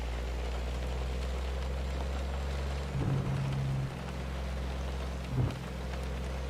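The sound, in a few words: rain while driving at night in American Truck Simulator video game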